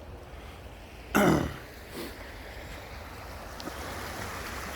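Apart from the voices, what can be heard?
small babbling brook flowing water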